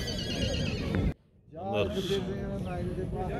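Horses neigh loudly and repeatedly at an outdoor livestock market, with a brief pause midway and people talking throughout.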